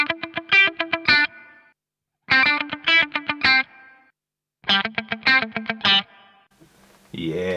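Guitar through a BOSS RV-500 set to short non-linear gated reverb for a big 80s sound: three bursts of fast strummed chords, each chopped off sharply, ending in a brief noisy scrape, no voices.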